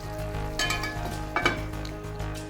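A lid set onto a pan of Bengali fish kalia (rui fish in gravy) with two metallic clanks over a low background sizzle.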